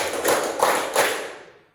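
A class of pupils claps in unison, three sharp group claps spaced evenly about a third of a second apart, then the room rings out and fades to quiet; close and fairly loud with no talk.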